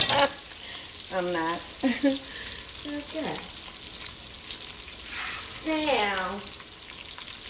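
Sliced sausage frying in a pan for a spicy cabbage, sausage and shrimp dish, with a steady sizzle and stirring under a voice speaking a few short words.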